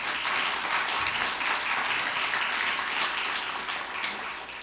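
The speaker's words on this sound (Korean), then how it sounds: "이럴 때 박수 하나님께 영광." A church congregation applauds together during a Sunday sermon, a dense, steady wash of clapping that stays loud throughout and eases slightly at the very end.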